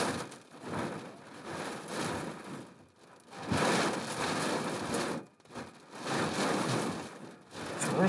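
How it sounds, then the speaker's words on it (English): Heavy rain falls outside next to a hospital in Mexico during a storm, a loud, dense hiss that surges and dips in waves with brief lulls and no talk. "So there's some rain for you."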